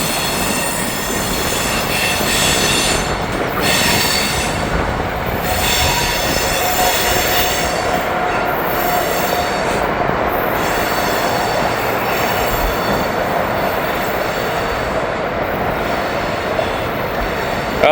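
A freight train with boxcars and two locomotives rolls past in Kentucky, wheels squealing loudly and repeatedly over a continuous rumble and intermittent clickety-clack, close and sustained without talk.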